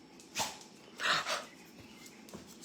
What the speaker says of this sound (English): It's my dog, Winona.